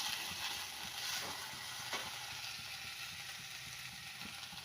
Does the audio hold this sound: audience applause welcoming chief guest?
no